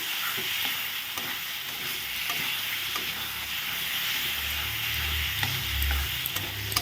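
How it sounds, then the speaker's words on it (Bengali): Spices for egg curry fry and get stirred in a pan, a steady close sizzle with scraping stir strokes over it and no talking. "এখন ভালো করে কষিয়ে নিচ্ছি"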